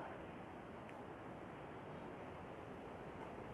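Strong wind on Heping Island rushes steadily across the microphone, a constant roaring hiss with no other sounds standing out.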